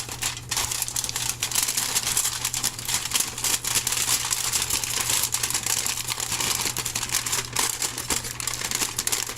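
Wrapper of a salmon and vegetable pouch folded and creased by hand, continuous close crinkling and crumpling with no talk.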